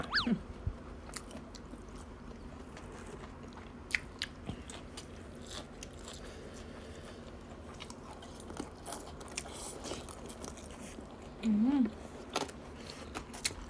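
Close, quiet chewing and crunching of spicy Thai papaya salad with cooked shrimp, with irregular bites and mouth sounds spread through the clip and a brief voiced sound near the end.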